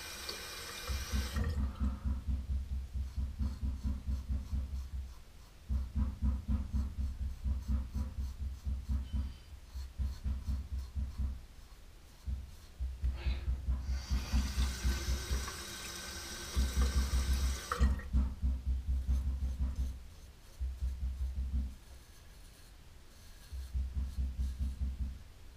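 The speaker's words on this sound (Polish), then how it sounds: "Nie zrażajcie się tym hałasem w tle. Jest to moja żona przygotowywująca niedzielny obiad" Kitchen clatter and running water from a tap as dinner is cooked, coming in repeated bursts with brief pauses, a steady domestic background with no talking.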